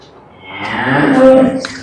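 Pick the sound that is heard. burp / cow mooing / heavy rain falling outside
cow mooing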